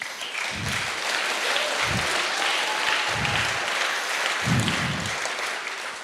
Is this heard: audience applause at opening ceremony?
yes